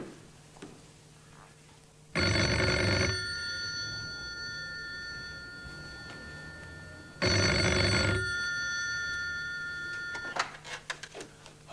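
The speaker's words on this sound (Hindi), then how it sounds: "आपको फोन आना शुरू हो गए हैं?" Two long rings of a telephone bell sound loud and close in a quiet room, separated by a pause, followed by a faint clatter.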